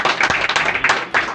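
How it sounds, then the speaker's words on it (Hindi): Applause at a store opening ceremony, loud and close, with a burst of rhythmic clapping from a gathered crowd. "हम चाहेंगे आप लोग जोरदार तालियां दें।"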